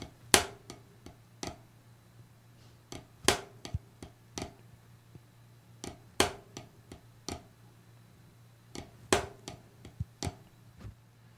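Flamacue rudiments are played on a drum with accents, sharp isolated strikes in repeating groups of about four. Each group opens with a loud flam, and the phrase recurs roughly every three seconds over a quiet background hum.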